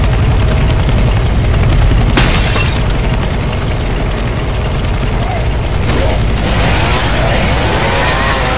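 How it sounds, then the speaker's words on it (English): A helicopter in the Left 4 Dead 2 Dark Carnival level gives a loud, steady rotor drone throughout, mixed with bursts of gunfire and crashing impacts. "It's a helicopter"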